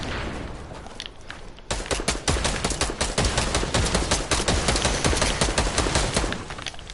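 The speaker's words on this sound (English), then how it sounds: "And now I'm getting grenade launchers spammed." Grenade launchers fire repeatedly in a video game, making a dense, loud barrage of rapid blasts and gunfire that starts quieter and then hammers on almost without pause.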